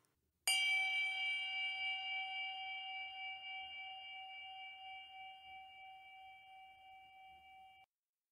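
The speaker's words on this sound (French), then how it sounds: "Pouvez-vous écouter le son de la cloche" A single meditation bell is struck once and rings out alone, a clear metallic tone with steady overtones slowly decaying over about seven seconds in a quiet room.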